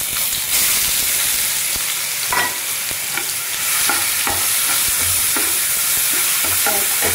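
Onion paste fries in a pan with a steady sizzle, broken by repeated scraping and stirring strokes from a utensil, close and fairly loud throughout with no voices.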